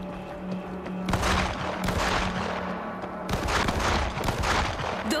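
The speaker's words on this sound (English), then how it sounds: "Those shots came from the highway." Gunfire in the zombie video game World War Z, with dense bursts of rapid shots and heavy booms firing in clustered volleys, loud and close with brief lulls between.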